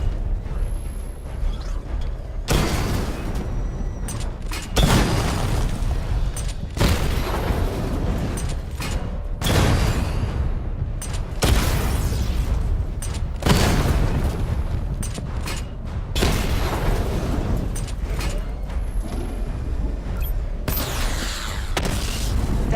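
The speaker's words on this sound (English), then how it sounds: "Destroy targets to charge up weapon energy and activate missile barrage." Repeated heavy booms and blasts from a missile barrage in a video game, several thundering bursts in sequence with mechanical clanks between them, loud and close, with no talking.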